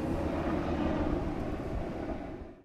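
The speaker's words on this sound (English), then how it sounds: "You'll hear the constant noise of helicopters." Surveillance helicopters fly overhead, a steady, close, loud engine-and-rotor roar that holds for a couple of seconds, then starts to fade.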